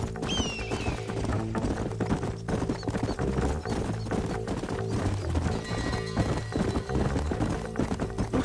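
Rhythmic horse hoofbeats clip-clop steadily over a busy background with music-like layers in the video game Red Dead Redemption, with a short whinny-like call near the start.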